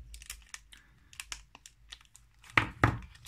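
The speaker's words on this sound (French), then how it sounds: "on peut passer au déballage de cette toupie" Black opaque booster packaging for a Beyblade Metal Fight spinning top is torn and crinkled open, giving a run of short, close crackling rustles that build to two louder tearing bursts near the end, with no talking.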